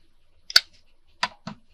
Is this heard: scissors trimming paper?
yes